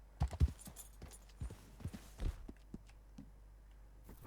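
Horse hooves clip-clop in Red Dead Redemption 2, a steady, fairly close walking rhythm of distinct hoof strikes on the ground, with soft ambient noise between them.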